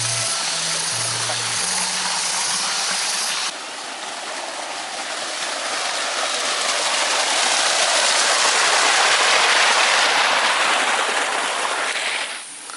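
Water rushes steadily along a channel at the edge of a high hillside near a waterfall, a loud, continuous broadband roar heard close by with no talk, after a brief low engine-like hum at the start.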